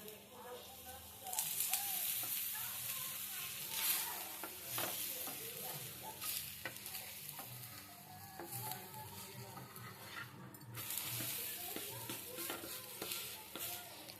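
A radish chapati roasts on a pan with oil poured over the top, giving a soft steady sizzle with light scraping and stirring clicks, quiet and close, while a person talks over it.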